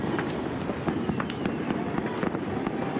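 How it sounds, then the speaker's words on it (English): Fireworks at a New Year celebration in Johannesburg, South Africa: a steady barrage of distant bangs and crackling pops over a dense, noisy crowd-like background, irregular and continuous throughout. "There's the fireworks."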